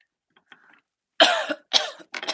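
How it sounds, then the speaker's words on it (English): A person in a quiet room breaks into a short coughing fit: faint throat sounds first, then three or four loud, close coughs in quick bursts, with no talk. "I'm having a little coughing fit"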